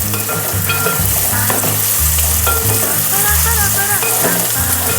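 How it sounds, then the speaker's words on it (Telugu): Onions fry for egg curry in a pan, a loud continuous sizzle with steady crackling and stirring scrapes, heard close and without talk. "సో ఫస్ట్ మనం ఆనియన్స్ సేమ్ బ్రౌన్ కలర్ వచ్చే వరకు వేపేసుకోవాలి."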